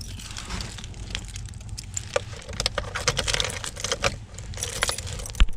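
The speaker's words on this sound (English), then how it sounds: "I gotta switch the keys up" Car keys jangle and clink continuously near the microphone, with repeated metallic rattles and sharp ticks while switching keys on a Honda Civic EG coupe project car; no talking.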